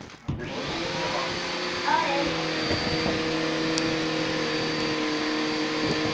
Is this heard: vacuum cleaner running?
yes